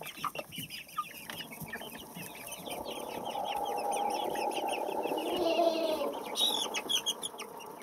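Several winter chicks, about forty days old, cluck and chirp close by in a busy, overlapping chatter, with soft rustling underneath and no talking.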